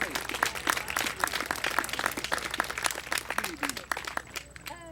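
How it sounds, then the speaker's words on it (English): A crowd gives a round of applause for a handler at a sheepdog finals event outdoors, steady scattered clapping of moderate loudness lasting several seconds and thinning toward the end. "How about a big round of applause for Beverly?"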